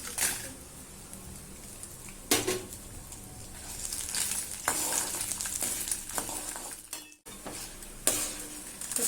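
Dried red chillies and lentils frying in hot oil in a pan for a beetroot chutney, a steady close sizzle with a few sharper crackling bursts and light stirring scrapes, no voices.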